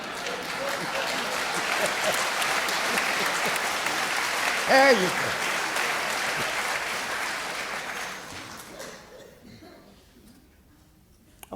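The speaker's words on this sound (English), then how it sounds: "It's a weak clap." An audience claps throughout in a sustained, moderately loud wash of applause that thins and dies out near the end, while someone speaks briefly over it.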